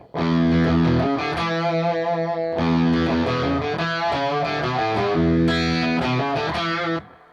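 A distorted electric guitar plays a short melodic lick, loud and sustained, with a brief pause before the phrase repeats.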